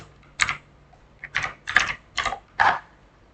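A command is typed on a computer keyboard in five quick, close bursts of key clicks separated by short pauses, with no talking.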